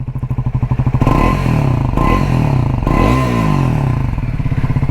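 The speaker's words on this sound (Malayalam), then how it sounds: "അപ്പോൾ നമ്മൾ ബൈക്ക് സ്റ്റാർട്ട് ചെയ്തിട്ടുണ്ട്. നിങ്ങൾക്ക് എക്സോസ്റ്റ് നോട്ട് കേൾപ്പിച്ച് തരാം." A Triumph Scrambler 400X motorcycle runs just after starting, its exhaust putting out a loud, steady, throbbing single-cylinder beat with a slight rise in revs partway through, recorded close up with no talking.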